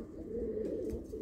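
A pet pigeon of the Madrasi breed coos softly up close, a low rolling burble lasting about a second, faint and alone.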